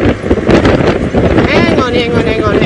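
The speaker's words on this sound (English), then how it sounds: "It's windy again today, so the camera's going to be a little bit bouncy" Wind buffets the microphone during a sunset safari drive, a loud, continuous rumbling roar with gusting surges, with a voice faintly audible beneath it.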